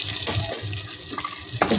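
Spice masala for Kanpuri aloo dum being stirred and fried in a pan, with a soft continuous sizzle and scraping stir strokes, close and steady for a couple of seconds.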